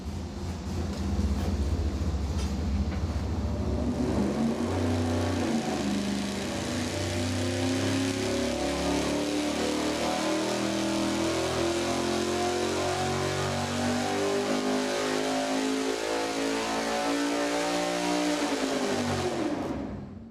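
An engine roars on a dyno through a full acceleration pull at 300 RPM per second with a regular-weight flywheel and normal harmonic balancer, its loud, rising drone sweeping steadily upward in pitch for about twenty seconds before cutting off.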